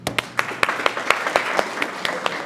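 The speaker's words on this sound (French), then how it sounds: "en applaudissant très fortement nos panélistes" Scattered, fairly close claps sound at the end of a conference panel on public policy and sustainable finance. Individual sharp hand claps land at a quick, uneven rhythm over a soft bed of wider applause.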